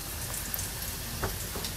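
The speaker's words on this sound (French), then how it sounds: "test friture, ça crépite, ça remonte, c'est bon" Korokke croquettes fry in hot oil with a dense, steady crackle and sizzle, close and fairly quiet, with a few brighter pops and no talk.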